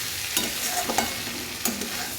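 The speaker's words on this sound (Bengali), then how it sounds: "আলু আর পেঁয়াজটা এর মধ্যে ভাজা ভাজা হয়ে গেছে" Potatoes and onions sizzle in a pan as a spoon stirs them, producing a constant frying hiss broken by a few scraping strokes, close and with no voices.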